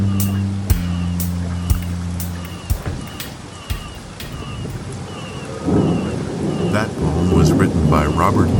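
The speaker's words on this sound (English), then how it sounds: "called out by the clap of the thunder" Thunder sound effect in an old-time radio drama, a deep rolling rumble that swells and crackles after a low musical chord, building louder toward the end with rain-like hiss.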